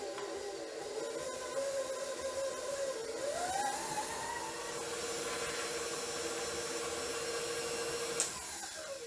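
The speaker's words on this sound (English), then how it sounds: "Now we're gonna mix that up." Ginger spice cookie dough being mixed by an electric mixer, a steady whirring motor hum that shifts pitch partway through and runs continuously throughout, with a brief clink near the end.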